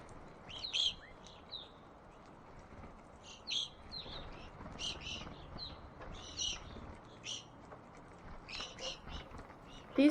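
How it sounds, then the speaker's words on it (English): Short, high chirping calls of evening grosbeaks come in scattered bursts over about ten seconds, faint and outdoors, with quiet murmuring underneath. "Evening grosbeak."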